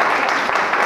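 Audience applause at a round-table discussion on accessibility and inclusive education, a steady dense wash of clapping filling the whole moment without a break.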